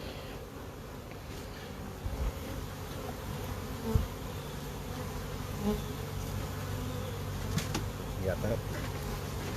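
Honey bees swarm around their hives in a thick, steady buzz close to the microphone throughout, with a brief spoken question and light outdoor rustling.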